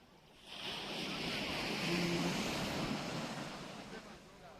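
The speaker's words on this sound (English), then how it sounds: "This is a lovely beach. And people are just enjoying themselves doing their swimming." Waves wash onto a beach while people swim, a soft continuous surf wash that swells in the middle and eases off, with a light rumble of wind on the microphone.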